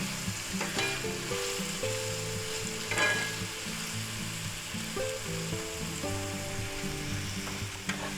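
Garlic sizzles in a hot pan, with a spoon scraping and stirring through it in short strokes, close and fairly loud under light background music.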